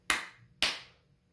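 A pair of crisp hand claps spaced about half a second apart, near and loud, turning off an early The Clapper sound-activated switch, each clap ringing briefly in an otherwise quiet room.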